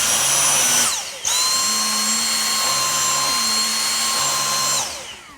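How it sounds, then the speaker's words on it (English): A Dyson V6 Animal vacuum runs its brush bar on carpet, a loud steady high-pitched motor whine with a brief dip and restart, under a low rumbling drone that shifts pitch a few times. "I thought I would let you hear how powerful the V6 brush bar is compared to the V8."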